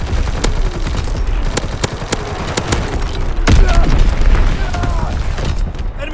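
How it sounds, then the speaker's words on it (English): Enemy artillery bombardment in the World War II shooter Call of Duty WW2: a dense, continuous barrage of booming impacts and rattling gunfire, with a heavier rumbling blast partway through and sharp cracks throughout. "Incoming enemy artillery."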